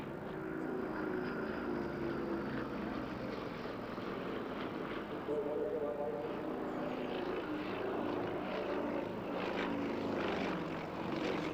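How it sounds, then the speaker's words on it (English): A Russian aerobatic aircraft powered by a 360-horsepower nine-cylinder radial Vedeneyev engine passes at an airshow, giving a steady, fairly distant propeller drone that holds without a break. "That impressive growl comes from the 360 horsepower 9-cylinder radial Vedenev engine."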